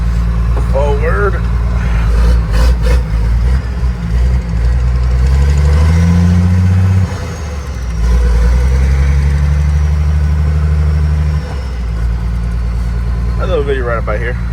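A 12-valve Cummins diesel swapped with a five-speed into a small dually truck idles loud and close with a deep steady rumble and brief rev changes, while people talk over it at times.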